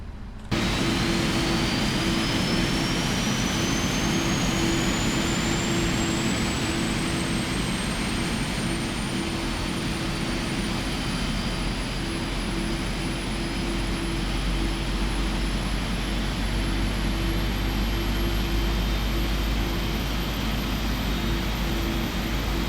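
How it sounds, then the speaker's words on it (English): A PMDG 777 airliner's left jet engine spooling up during start in Microsoft Flight Simulator, a loud steady turbine roar with a rising whine climbing in pitch over about twenty seconds, constant and without talk. "Let's start the left engine."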